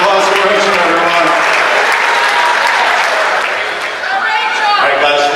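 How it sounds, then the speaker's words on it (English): Wedding reception guests applauding after a speech, loud, dense and steady clapping filling the room for several seconds, with a few cheers mixed in. "Big round of applause for Rachel, everyone."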